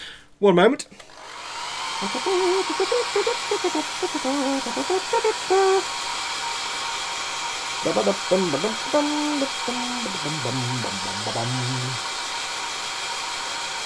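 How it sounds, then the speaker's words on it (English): A hair dryer blows on glue on a Meng 1/35 AMX-30B2 plastic model tank, a steady close whooshing roar running nearly throughout while someone talks over it in bursts. "let's get some more hair drying going on"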